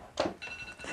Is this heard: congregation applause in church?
no